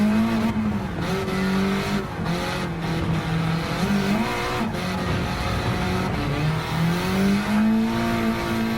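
A Honda race car in Gran Turismo 7 drives hard and close, its engine a steady high-pitched drone that rises and dips with gear changes and throttle, with brief tire noise and no talk.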